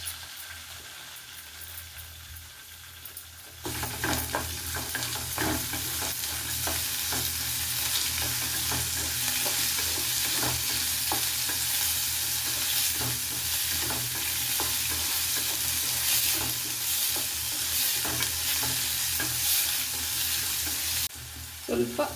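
Onions frying with vermicelli in a pan for a lemon vermicelli chitranna, a quiet start that jumps into a loud, steady sizzle with frequent stirring scrapes, lasting about twenty seconds before dropping off, no talking.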